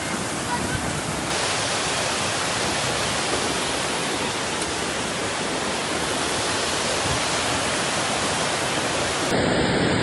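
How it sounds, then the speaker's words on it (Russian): A flooded river rushing past in a powerful, continuous roar of water, broadband and unbroken for the whole stretch, with no clear voices over it. "Река Ира вышла из берегов."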